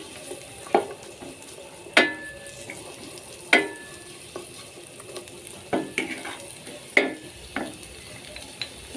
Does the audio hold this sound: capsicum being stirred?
yes